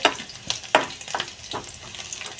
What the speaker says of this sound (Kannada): ಬೆಳ್ಳುಳ್ಳಿ ಹಾಕೊಂಡ್ಮೇಲೆ ಒಂಚೂರು ಇದು ಬ್ರೌನ್ ಕಲರ್ ಬರ್ಬೇಕ್ರಿ